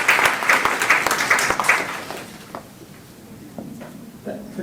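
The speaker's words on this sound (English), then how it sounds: "Please give a round of applause." Audience applause at a Silicon Valley AI tech conference, a burst of steady clapping that thins out after about two seconds into scattered claps, with a voice speaking briefly near the end.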